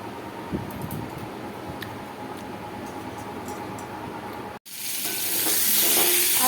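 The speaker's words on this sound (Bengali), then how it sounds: "আলুটাকে আগে ভালো করে ভেজে নিচ্ছি" Potato chunks for alur dom frying in a pan, a steady close sizzle with faint stirring scrapes, briefly cutting out and then returning louder and brighter as the hot oil hisses.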